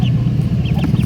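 Chickens at a poultry seller's market stall give soft clucks and calls over a steady low rumble of background noise, with faint chirps rising above the bed.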